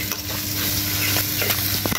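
Long beans are stir-fried with palm sugar in a pan over a wood fire, giving a steady close sizzle with scraping and clinking stirring sounds throughout.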